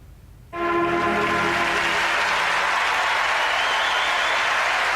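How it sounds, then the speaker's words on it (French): A crowd erupts suddenly into sustained cheering and applause after a quiet moment, loud and continuous. "Ce sont des hurrahs dans la foule."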